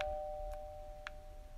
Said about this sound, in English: I think it was a doorbell.